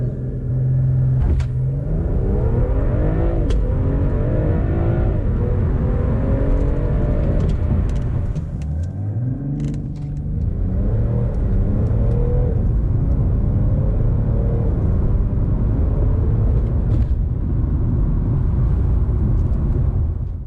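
A BMW M340i accelerates hard in a 30 to 70 mph sprint, heard from inside the cabin: a loud, steady engine roar rising in pitch through the gears, with a brief dip at each upshift and no talking.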